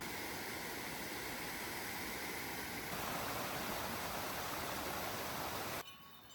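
A waterfall among meadows and forest along an Austrian hiking trail gives a steady, loud broadband rush that holds even for several seconds and then drops abruptly near the end, with no talk over it.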